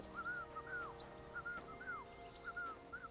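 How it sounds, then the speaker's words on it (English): A video game character whistles a short repeating tune on a traveling road in the Kingdom of Bohemia, a faint, thin series of rising and falling notes with no talking. "Your whistling is getting on my fucking nerves the whole way."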